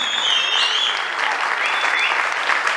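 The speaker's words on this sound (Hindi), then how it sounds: "अरे दिल से सीटियां और तालियां बजा लो" Crowd at an award ceremony honouring a singer claps steadily while shrill whistles cut through above, the applause loud and continuous throughout the short stretch.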